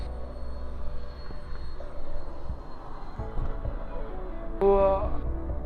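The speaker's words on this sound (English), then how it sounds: "Look at that jet wind up." A jet engine spools up near an airfield runway ahead of takeoff, a loud, rising roar with a whining tone that swells toward the end, while people nearby talk over it.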